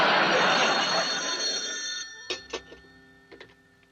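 An old telephone bell rings loud and close in a 1950s family sitcom household early in the morning, a long continuous ring followed by a few shorter bursts as it fades.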